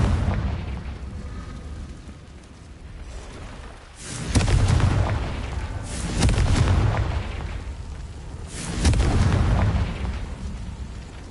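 Confringo blast spells exploding in Hogwarts Legacy, three deep swelling booms spaced a few seconds apart over a low rumbling background.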